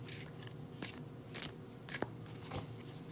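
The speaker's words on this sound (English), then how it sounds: "I don't think there's any special way you're supposed to shuffle or anything, but so that's what I do." Tarot cards shuffled by hand, with soft riffling swishes and crisp card slaps in quick repeated bursts, quiet and close with no talking.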